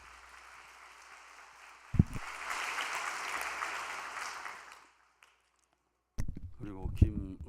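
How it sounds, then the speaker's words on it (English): A crowd at a spiritual workshop breaks into steady applause for a few seconds, fading out to silence, followed by a voice speaking. "Let us offer a big round of applause for her."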